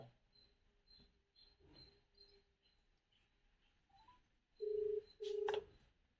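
Two short electronic phone tones sound in quick succession after a few seconds of near-quiet with faint insect chirps in the background.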